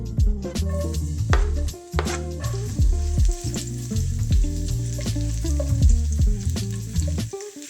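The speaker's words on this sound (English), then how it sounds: "Just kind of coat the bottom and put the garlic in." Garlic frying over low heat in extra virgin olive oil in a stainless pan gives a close, steady sizzle with busy crackles and pops, loud and continuous.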